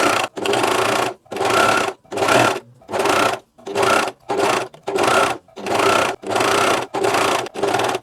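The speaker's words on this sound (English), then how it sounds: "And again, I'm trying to overlap the stitches" A coverstitch sewing machine hems a T-shirt sleeve in about ten loud, close bursts of whirring, each under a second long and separated by brief pauses, with no speech.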